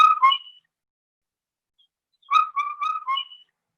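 Indian cuckoo in Nagaland giving its four-note whistled call, the tail of one phrase fading out, then after a pause a full repeat of the evenly spaced, slightly falling notes, clear and alone.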